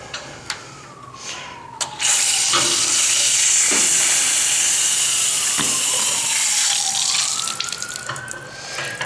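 An opened drain valve on old galvanized water lines lets out a loud, rushing hiss of water and air. It bursts on after a few faint taps, holds steady for several seconds, then eases and sputters at the end.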